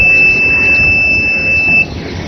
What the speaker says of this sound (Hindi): अचानक अलार्म बजने लगा।